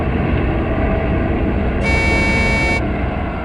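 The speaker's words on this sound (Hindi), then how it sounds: "ट्रक की आवाज? ट्रक जंगल में?" Heavy truck rumbling through a jungle with a steady, dense engine drone, close and loud, joined midway by a sustained horn blast lasting about a second.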